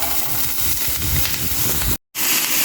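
Bottle gourd seeds dropped into hot oil for a gourd-seed mash, frying with a steady loud sizzle and hiss close up, briefly cut to silence near the end before resuming.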